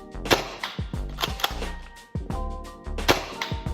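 Toy blasters fire repeatedly in short sharp cracks, about six snappy clicks spaced irregularly over a few seconds, close and fairly loud with brief quiet gaps between.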